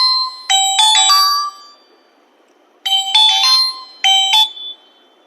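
A phone ringtone plays loud, close electronic two-tone chimes in two repeated bursts with silent gaps between them.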